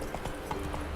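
Horse hooves clip-clopping at a steady trot or gallop in The Witcher 3 video game, a rapid close rhythmic beat over a continuous low rumble, with no talking.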